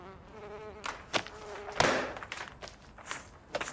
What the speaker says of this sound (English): Gotta get rid of these wasps.